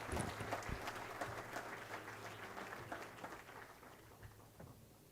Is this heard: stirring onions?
no